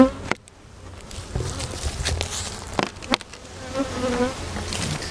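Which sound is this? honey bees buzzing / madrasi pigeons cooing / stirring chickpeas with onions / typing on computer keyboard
honey bees buzzing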